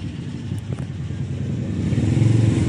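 Car engine starting through a starter solenoid wired to positive and negative, a steady low rumble that builds and grows slightly louder toward the end.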